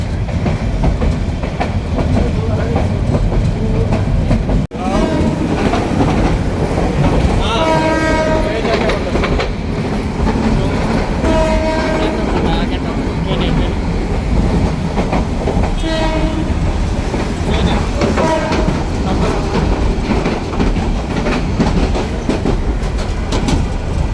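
A passenger train runs toward Dhaka with a steady, loud rumble of wheels and carriages throughout, broken by several short horn blasts and a few brief background voices.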